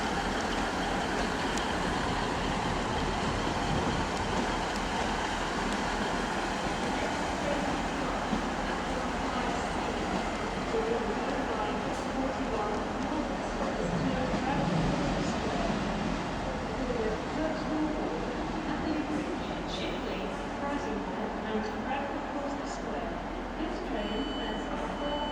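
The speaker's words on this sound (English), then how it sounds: "just pulled in is a Northern Class 333" A Northern Class 333 electric train pulling into Leeds station, a continuous broad rumble and hum of the arriving unit, steady and fairly loud throughout with faint station ambience behind.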